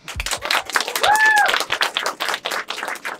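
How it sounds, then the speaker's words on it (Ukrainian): Audience applause at a Ukrainian-language stand-up comedy show, a loud burst of many hands clapping close by with a whistle cutting through midway, then thinning out toward the end. "Аплодуйте, хто з вас з України"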